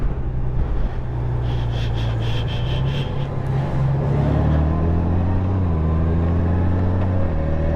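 A car drives through a checkpoint in California, a steady close engine and road hum with some wind rumble, the pitch rising gradually as it pulls away.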